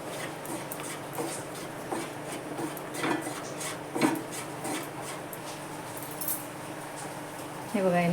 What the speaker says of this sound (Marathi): ते पपईच्या फोडी मिक्सरमधून काढून घेते